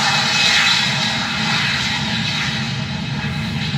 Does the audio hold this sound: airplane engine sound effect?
yes